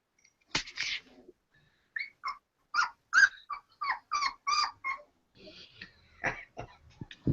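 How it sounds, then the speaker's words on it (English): A litter of puppies outdoors in Jamaica cries close by in a rapid string of high yelps and whimpers, with short pauses between bursts. "there's a whole litter of puppies out here. I can hear them crying."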